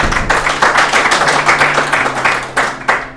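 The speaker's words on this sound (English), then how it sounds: "Have a nice round of applause, please." A small audience gives a round of applause during a podcast interview, a steady patter of many hands clapping nearby that thins out into a few last claps at the end.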